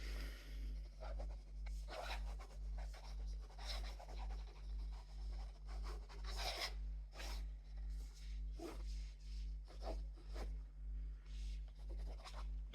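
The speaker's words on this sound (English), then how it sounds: "Now I've gone quiet, but you can hear that lovely scratching. It's one of those noises that I love." A fountain pen nib scratching across paper during freehand drawing, a run of soft, irregular scratchy strokes close up over a steady low hum, with no talking.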